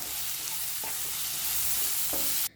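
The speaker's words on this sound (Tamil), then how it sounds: "நல்லா மிக்ஸ் பண்ணிக்குவோம்" Tomato masala with chilli powder is stirred in a hot pan, giving a loud continuous sizzle with a few scraping strokes of the spoon, ending abruptly.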